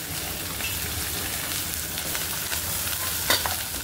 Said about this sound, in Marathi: आता आपण कमी गॅस करूया आणि पूर्ण मसाला सर्व भाजून घेऊया.